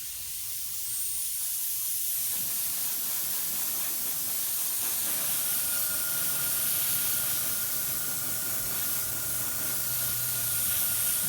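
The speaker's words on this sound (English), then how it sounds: "we're going to just lightly mist the entire thing. In fact, you won't even see the airbrush off camera" An airbrush lightly mists a buff XF57 dust coat over a Dragon model SAS Jeep, giving a steady, continuous hiss of spray that holds at an even level throughout.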